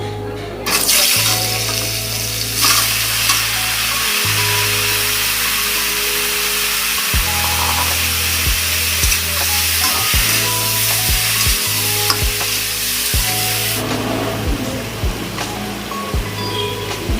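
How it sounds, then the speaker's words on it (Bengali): Pineapple pieces for a sweet and spicy pickle hit hot oil in a wok over fried panch phoron, giving a loud, steady sizzle with a constant low hum and occasional clinks, and no talking. "আমি এবার দিয়ে দিচ্ছি আনারসের টুকরো।"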